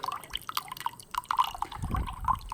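Water and condensate dripping and spattering from the opened drain of an air compressor tank in a shop, irregular small drips and splashes throughout, with a heavier gush of liquid near the end, fairly close.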